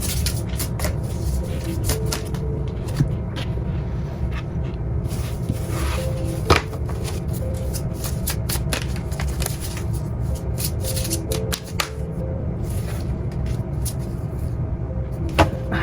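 Tarot cards are shuffled by hand in a continuous rapid riffling and sliding of card stock, close up, with occasional sharper snaps and taps over a low background hum.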